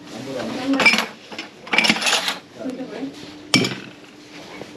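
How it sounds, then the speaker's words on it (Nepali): Freshly washed dishes and pots clink and clatter as they are set upside down in a drying rack at a small family-run restaurant in Hetauda, in a few short bursts with a sharp final knock, close by with faint voices underneath. "भाँडाहरू घोप्टाउनु पर्यो भनेर यसरी ऱ्याकमा मिलाएर राखेँ"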